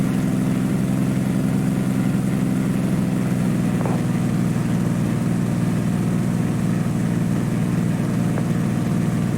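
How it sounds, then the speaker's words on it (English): Cessna light aircraft with an IO-550 piston engine at high power during a go-around, a steady loud droning propeller hum heard from inside the cabin throughout. "Cessna 2 Echo Foxtrot is going around runway 29er"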